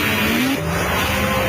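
A car drives hard in a BMW holiday TV commercial, with a loud, continuous engine roar, tire squeal and skidding noise filling the whole stretch.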